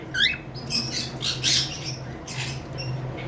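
Pet birds, a cream face fallow and a lutino pied, give short chirping squawks in bursts over a low background hum, close by and with no speech.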